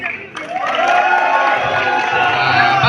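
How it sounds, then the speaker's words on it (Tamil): An audience at a farewell event breaks into loud applause and cheering, a dense sustained roar of clapping and voices that swells after a brief quieter start. "உங்களுடைய ஒரு பெரிய கைத்தட்டல் கொடுத்துடலாம்"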